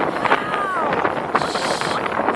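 Wind rushes past on open water, a constant breathy roar mixed with the hum of a boat, while a person talks over it.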